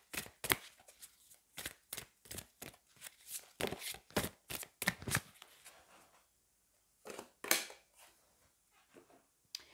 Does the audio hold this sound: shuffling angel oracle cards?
yes